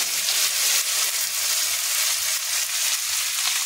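Mashed potatoes hitting hot oil over a low gas flame for vegetarian aloo paratha filling give a steady, close, dense sizzle that runs on alone without pause.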